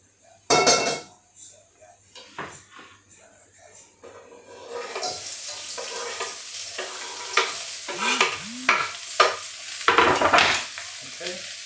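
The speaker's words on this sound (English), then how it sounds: "So you can see the oil now, it's just starting to contract" Chicken pieces for spicy chicken wraps drop into hot oil and sizzle, with sharp clanks and scrapes of utensils against the pan over a rising, steady frying hiss and no talk.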